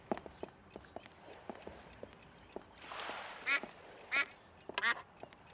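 Duck quacks in Escape from Monkey Island, three loud nasal quacks spaced about a second apart after a stretch of quiet clicks and soft rustling, with faint murmuring beneath.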